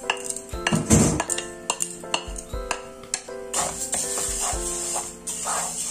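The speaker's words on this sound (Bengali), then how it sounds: "ডাল ভাজার জন্য একটা প্যান বসিয়ে দিলাম চুলায়" A pan is set on the stove for frying mung dal, heard as close, loud metallic clanks, scrapes and rattles of cookware in an irregular burst, followed by a quieter steady hiss.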